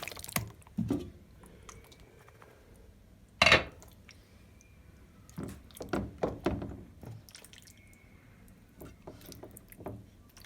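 A series of soft thuds and light clatters as skin-on chicken pieces are set one by one into a pan, irregularly spaced, close by, with no talking.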